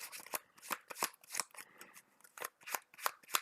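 Marvel Champions game cards being shuffled by hand, a quick series of crisp riffling bursts repeating roughly every third of a second, close and clear with no talking.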